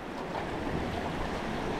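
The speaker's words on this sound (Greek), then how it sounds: "ο αέρας κάνει μια στροφή και έρχεται από τα ανατολικά" Strong east wind roars across the microphone at a beach with a broad, steady rush, mixed with the wash of surf, loud and continuous throughout.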